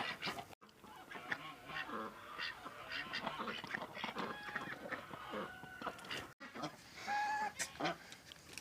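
Ducks quack and chickens cluck close by on a small home farm, with a goose among the flock, a busy overlapping chorus of calls and wing-flapping, with a voice partly audible beneath.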